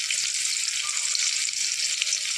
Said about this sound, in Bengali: এবার পাঁচফোড়ন দিয়ে কিছুটা চেরা পেঁয়াজ মামনি দিয়ে দিচ্ছে